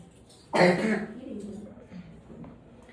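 A child gives one sharp, loud cough that trails into throat-clearing noise, close to the microphone, with quieter sounds of a voice afterward.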